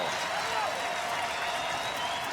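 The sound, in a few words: home crowd standing ovation applause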